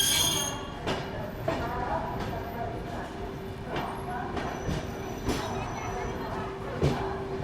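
A Maharashtra Sampark Kranti Express pulls into Hazrat Nizamuddin station in Delhi. A steady rumble of rail noise carries a sustained whine, and wheel-on-track clacks and thumps recur every second or so as the train slows.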